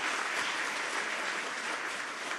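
An audience fills a hall at a global summit with sustained, dense clapping, loud and uniform from start to finish with no speech over it.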